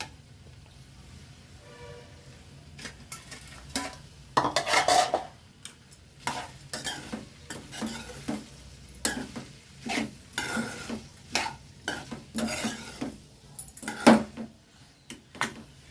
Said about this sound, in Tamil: ஸோ வெண்டைக்காயும் நான் இப்போ போட்டேன். நல்லா வதங்கட்டும்.